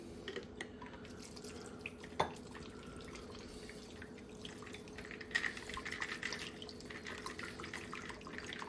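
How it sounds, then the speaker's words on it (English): A shaken raspberry drink poured over ice, a faint steady trickle and splash of liquid with occasional clinks and small drips, quiet and continuous for several seconds with no talking. "And we're going to pour that in over top of this."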